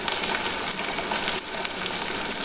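Tomatoes fry in a pan with a bright, continuous sizzle and crackle at an even, fairly close level, with no voices.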